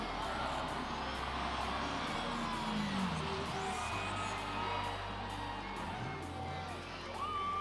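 Large stadium crowd at the Sydney Showground Stadium during an Easter Show race, yelling and cheering continuously in a loud, dense roar with scattered whoops and a steady low rumble underneath.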